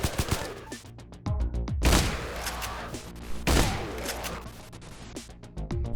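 Shotgun blasts in the video game Extraneum, a few loud, booming shots spaced seconds apart, each with a short decaying tail amid rapid clicking game action.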